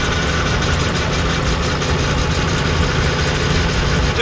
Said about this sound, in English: First time the motor's run, so we're going to make sure that all the air gets out